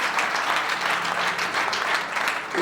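Church congregation at a Sunday service bursting into sustained, dense applause, loud and close, clapping steadily throughout.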